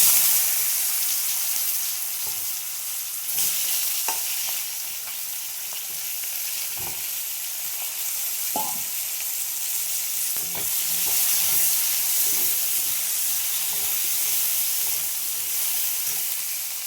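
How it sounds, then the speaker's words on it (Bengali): Sliced potatoes and onions fry in oil with black cumin in a pan, a steady close sizzle that continues throughout with occasional soft scrapes and knocks of stirring, and no voices. "দেখো আলু পেঁয়াজগুলো ভাজা হয়ে গেছে"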